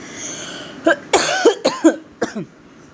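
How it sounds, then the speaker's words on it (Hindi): Several short, harsh coughs come close together in a quick burst, up close, with brief quiet gaps between them. "मुझे फिर बाहर से खांसी आने वाली, मैं बिल्कुल भी नहीं बोल सकती हूँ"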